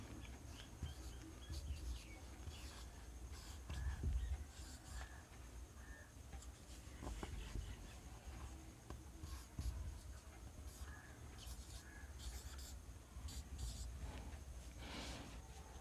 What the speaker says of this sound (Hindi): हम यहाँ पे 1 से लेकर के 10 तक की गिनती लिख लेंगे।